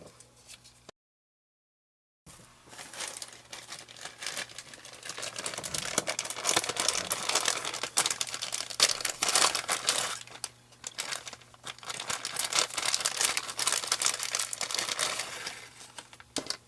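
Hand scissors fussy cutting around a paper sugar skull for a planner clip, heard as close, continuous crisp snipping and crinkling of paper, steady for most of the stretch after a brief silent gap near the start.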